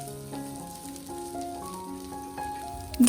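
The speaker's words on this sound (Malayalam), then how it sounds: "സവാളയൊക്കെ ഒന്ന് ചെറുതായിട്ട് ട്രാൻസ്ലൂസൻ്റ് ആവുന്ന വരെ നമുക്കൊന്ന് വഴറ്റിയെടുക്കാം." Onion sautéing in a pan for a quick curry side dish, a soft steady sizzle running throughout at moderate level, with tonal hum lines and a brief louder clatter at the very end.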